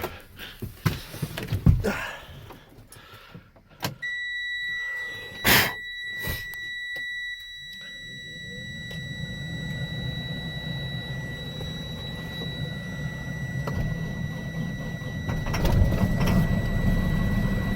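A Freightliner truck starts up on a snowy farm. A few electronic beeps are followed by the engine catching and settling into a low, steady rumble that grows slightly louder toward the end.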